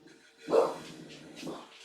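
Guard dogs barking indoors, two or three short muffled barks spaced about a second apart, moderately loud and close, with no talking.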